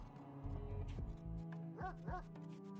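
A dog in a colony-building game gives a few short yips and whimpering barks over a humming tonal background.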